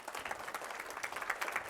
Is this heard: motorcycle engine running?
no